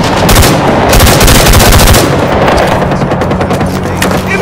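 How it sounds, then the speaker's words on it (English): Dense, sustained automatic gunfire from enemy soldiers in the Vietnam War video game Rising Storm 2: Vietnam, loud and continuous with overlapping bursts and booming reports throughout. "Enemy fire!"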